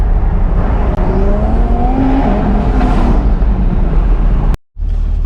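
A 2023 Chevrolet Corvette C8 engine pulls loudly and steadily from inside the car, its drone rising through the gears and broken by a sharp cut near the end as a paddle shift snaps through.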